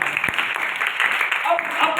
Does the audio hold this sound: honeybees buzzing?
no